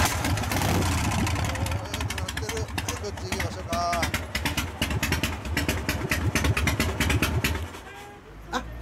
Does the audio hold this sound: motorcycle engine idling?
yes